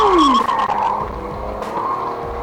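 A car speeding off past a dashcam, with a loud engine roar and a rising tire-like whine at the start, then steady road noise.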